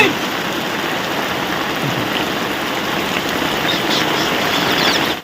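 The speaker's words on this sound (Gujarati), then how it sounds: "ફૂલ વરસાદ છે" Heavy rain pours down steadily in a village, a dense loud hiss of drops on surfaces that continues without letup before cutting off.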